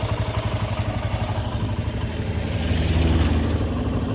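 A TVS Apache 160 RTR motorcycle engine idles close by with a steady, even pulsing thump, rising slightly in level around the third second before settling, loud and alone without talk.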